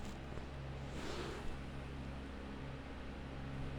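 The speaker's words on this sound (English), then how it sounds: "fan right now, which is probably the background noise you are hearing in this video" A bedroom fan runs steadily, giving a low, even hum and soft airy hiss that carries on without change, with no voices over it.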